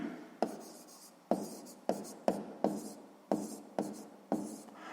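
A pen writes by hand on paper during a sixth-grade maths exercise, making soft scratchy strokes with a sharp tap at the start of each word, about eight times in a steady rhythm, close up and quiet.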